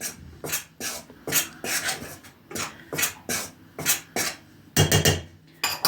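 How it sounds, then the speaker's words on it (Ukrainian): Butter scraped over the coarse side of a box grater into flour, a run of rhythmic rasping strokes about twice a second, close and fairly loud, with a few scraping clatters near the end. "натираємо наше масло на великі очка"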